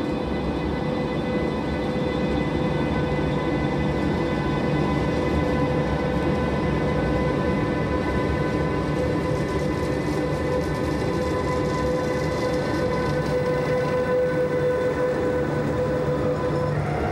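A DB Class 151 electric locomotive passes with its train, a steady loud rolling rumble and electric hum with tonal whine, continuous and close throughout, with no talk.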